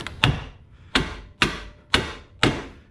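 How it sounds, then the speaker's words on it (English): Five sharp metallic hammer blows spaced about half a second apart, striking a stubborn CV axle on a 2002-2006 MINI Cooper to knock it free; loud, close and with no talking. "I'll keep hitting it and it should pop free eventually."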